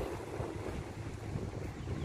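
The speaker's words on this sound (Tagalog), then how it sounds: "Ayan, ang hangin." Wind blowing outdoors beside a street while someone waits for a taxi, a steady loud rumble and rush of gusts buffeting the microphone throughout, with no talk.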